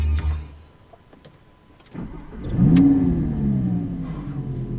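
A Lamborghini Gallardo LP550 engine cranks and fires up at about two seconds, catching into a loud, deep idle with a brief rev before settling into a steady rumble.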